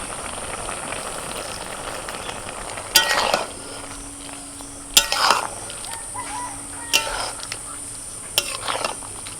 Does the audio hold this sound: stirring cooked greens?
yes